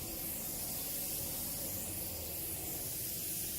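Headlight coating is sprayed from a spray gun in a steady, continuous hiss at close range, with no talking.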